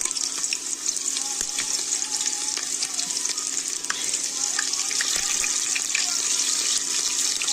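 Chopped onion fries in hot oil with a steady, dense sizzle that carries on unbroken and fairly loud, broken by faint clicks, while a voice speaks softly underneath.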